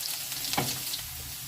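Close, continuous sizzling of mushrooms and potatoes browning in a frying pan, with one brief louder crackle midway and no talking.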